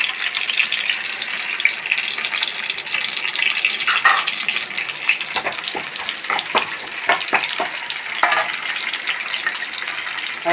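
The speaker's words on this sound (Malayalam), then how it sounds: "കടുക് നന്നായി പൊട്ടട്ടെ" Mustard seeds sizzle in two tablespoons of hot coconut oil, a loud, steady hiss close by, with a flurry of sharp crackling pops breaking out through the second half.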